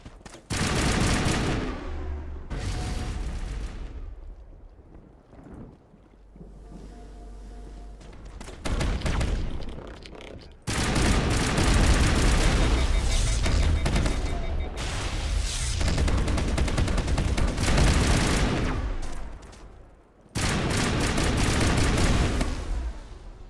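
Sustained gunfire and turret crossfire in the Mass Effect Legendary Edition game, dense rattling bursts and booms running almost continuously with brief lulls, loud and close.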